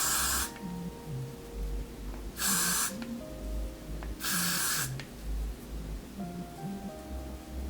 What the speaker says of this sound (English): put some Got to Be Glued spray, and I'm gonna put that right in between.